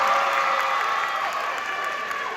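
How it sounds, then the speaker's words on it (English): Applause from a crowd at a high school graduation ceremony, a steady wash of clapping heard at a distance and fairly soft, with no clear talk over it. "you can clap it up for getting these beautiful young people across the finish line"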